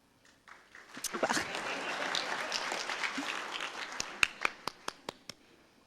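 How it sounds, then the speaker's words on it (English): An audience applauds an associate dean of the Lumpkin College of Business and Applied Sciences at a college technology day, a rising crowd clapping that thins out into a few loud, separate claps near the end. "Associate deans probably aren't clapped for very often, so we should take advantage of that opportunity."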